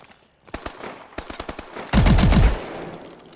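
Rapid automatic shotgun fire in the video game Call of Duty: Advanced Warfare: a loud sustained burst of booming blasts, preceded by scattered single shots and mechanical clicks, close and without talk.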